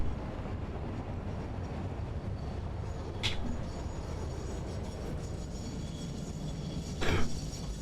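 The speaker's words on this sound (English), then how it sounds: "we'll ride the train for a few minutes" A train ride in the factory-building game Satisfactory, a steady rumbling roll with a couple of brief high squeals, with no talk over it.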